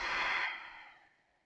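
A single soft exhaled breath during a yoga lunge, close and quiet, starting as a breathy sigh and fading out over about a second.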